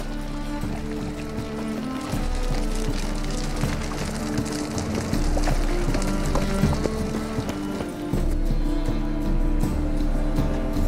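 Roach, a horse in The Witcher 3 video game, gallops with a steady rapid clip-clop of hooves, close and continuous over a low ambient game soundtrack.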